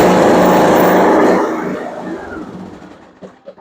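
A riding lawn mower tractor engine roars loudly up close for about a second and a half, then fades and settles to a lower running rumble, ending with a few sharp knocks, with no talking.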